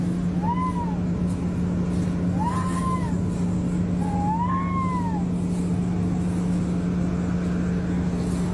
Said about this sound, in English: Because it sounds like a kind of a meow.